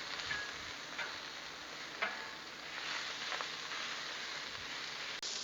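Italian sausage with peppers and onions sizzling on a Blackstone griddle, a steady close hiss of frying with a few faint scrapes and clicks of stirring, no talk.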